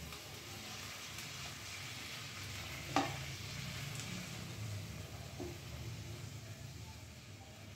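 Boiled, salted boneless chicken pieces hit a hot wok and get stirred, a soft continuous sizzle with one sharp clank of the spatula partway through and quieter scraping afterwards, fairly faint overall.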